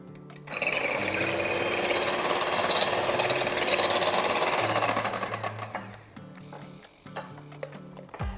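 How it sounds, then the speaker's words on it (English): An electric mixer on its low setting beats eggs for carrot muffins, a steady, loud whirring buzz that runs for about five seconds and then cuts off. "you also mix them one at a time at the lower setting of your"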